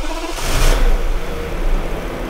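A Lada Granta car engine revs and pulls through a 0-100 km/h acceleration run, a loud, close, broadband roar with a rumbling low end that swells and then holds steady.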